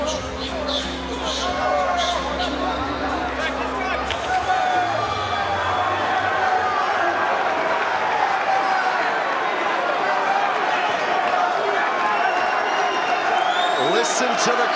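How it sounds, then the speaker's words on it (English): A packed London crowd at a BAMMA MMA fight roars in a dense, continuous wall of cheering and shouting, with a commentator's voice audible over the crowd at the start. "Listen to the crowd here tonight"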